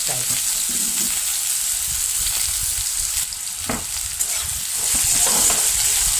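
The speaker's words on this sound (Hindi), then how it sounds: "अब तेल में आलू को थोड़ा फ्राई कर लेंगे, फ्राई।" Continuous loud sizzling and crackling of potatoes frying in hot oil, with occasional stirring scrapes, close up and steady.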